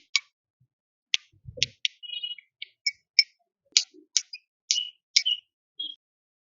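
Caramelized sugar crust on a creme brulee, made without a torch, cracks under a spoon: a dozen or so sharp, close crisp snaps and ticks spaced irregularly, with a few soft low knocks between them.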